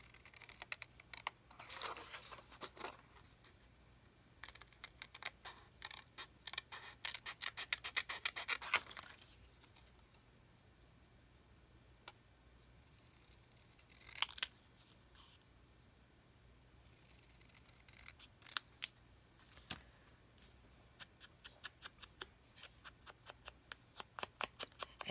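Scissors cutting paper for a craft project, heard as bursts of soft snipping and rubbing scratches spread irregularly across the clip with quiet gaps, close by and faint.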